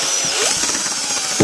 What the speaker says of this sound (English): Okay, I'm going to drill right here.